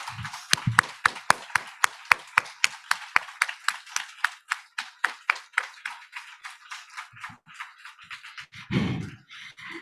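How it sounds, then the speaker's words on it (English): A few people clap for honored volunteers at an appreciation event, sharp distinct claps in a steady rhythm that slowly thin out and fade, ending with a brief low rumble. "we can acknowledge all of you with this great applause"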